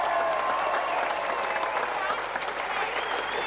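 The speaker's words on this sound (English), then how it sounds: "Let's have a round of applause for him." Audience applauding after the 1988-89 FA Vase Final at Wembley, a dense, steady clapping wash throughout with faint voices and whistles mixed in.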